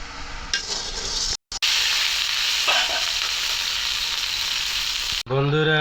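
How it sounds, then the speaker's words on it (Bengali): Local baila fish frying in a pan with kalmi greens laid on top, giving a loud, steady broadband sizzle that runs almost throughout, broken by a brief cut and ending as a voice begins to speak. "এই যে দেশি বাইলা মাছ রান্না করতেছি"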